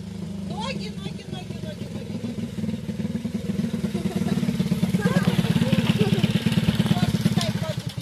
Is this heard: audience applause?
no